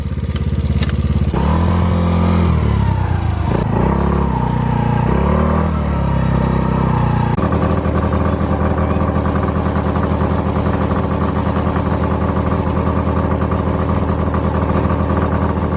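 A vehicle engine on a desert outing revs loudly and close through a gear change, its pitch climbing and dropping in steps before settling into a steady, sustained drone. No one talks.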